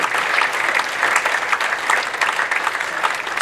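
A crowd at a football academy awards evening applauds continuously, loud and dense, a full even roar of clapping with no break.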